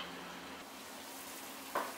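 Potatoes and peppers cook in a covered pan, giving a quiet, even sizzle throughout, with one brief faint tap near the end.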